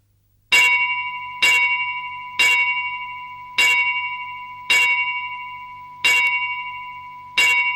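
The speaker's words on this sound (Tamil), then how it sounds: "கோயில் மணி அடிக்குது" A temple bell rings seven times at an even, unhurried pace, each clear metallic strike ringing out and fading before the next.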